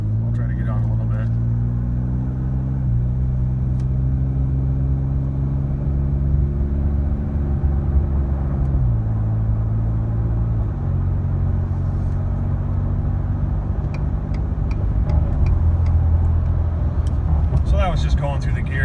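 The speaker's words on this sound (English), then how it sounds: "I was in the boost a little bit, just kind of rolling through the gears" A turbocharged car pulls hard under boost, its engine note stepping up and dropping with each gear change in a steady, droning rumble from inside the cabin, with someone talking over it.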